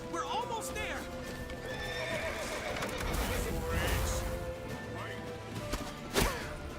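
A horse whinnies loudly over rapid hoofbeats, with shouting voices, a crash and whooshing effects in a hectic scene from the video game The Witcher 3.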